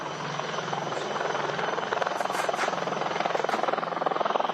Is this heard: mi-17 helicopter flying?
yes